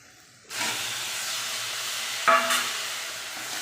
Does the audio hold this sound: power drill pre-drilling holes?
no